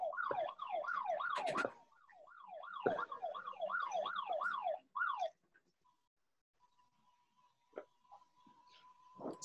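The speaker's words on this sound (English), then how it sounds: "oops, that's my ankle alarm" An electronic ankle alarm going off in a warbling, siren-like pattern of rapid rising and falling tones, loud and close for about five seconds, then breaking into a steady faint beep with scattered short chirps.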